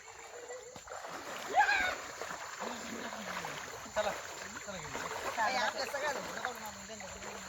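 Wading through knee-deep floodwater in a rural village river, with sloshing, splashing steps up close and a steady rush of flowing water behind, plus a loud splash near the start; voices talk over it.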